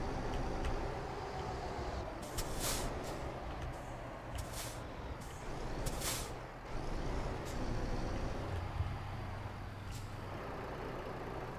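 A heavy truck in the video game Euro Truck Simulator 2 brakes to a stop, its engine droning low while several sharp air-brake hisses burst out at intervals, close and clear with no talk.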